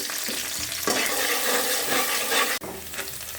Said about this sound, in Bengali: তেলটা দেওয়ার পর এখন পেঁয়াজগুলো দিয়ে দিব। এলাচ, দারচিনি, তেজপাতা দিয়ে দিলাম।